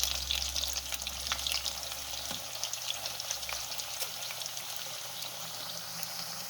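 Jamaican curry goat warms in a pot on a stove turned down low, with a soft continuous sizzle and bubbling, a few faint clinks and a low rumble that fades partway through, with no voices.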